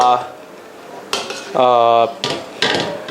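Utensils clink and scrape against a plate and pan while stir-fried shark fin is arranged for serving, a few close, bright metallic knocks and a ringing scrape in short bursts.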